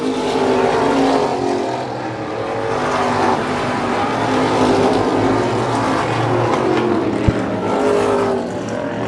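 Several race cars roar around the track in a dense, continuous pack, their engines loud and steady, rising and falling slightly as they circle.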